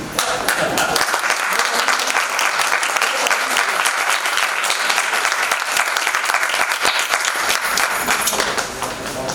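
A theatre audience claps at length for the Hindi play Ek Boond, staged by Rangsangam Sanstha in Lucknow. The applause is loud, dense and sustained, tapering slightly at the very end.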